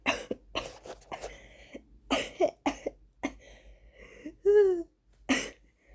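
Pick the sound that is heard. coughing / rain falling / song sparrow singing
coughing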